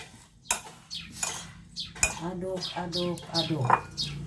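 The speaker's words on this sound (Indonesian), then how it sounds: "Sekarang kita aduk." Small, thin chicken pieces and vegetables get stirred in a pan, with repeated clinks and scrapes of a spoon against metal in an uneven rhythm and faint chirping in the background.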